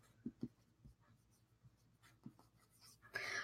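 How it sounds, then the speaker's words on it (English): Pen or pencil writing words on paper, a few faint scratchy strokes in a quiet room, close and soft. "That's what I'm going to write down."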